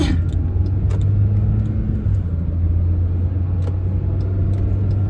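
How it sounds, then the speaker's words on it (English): A bus passing on a road, a heavy low rumbling engine drone that holds steady and close for several seconds with faint clicks and knocks over it, no voices. "Is that the bus? That's the bus."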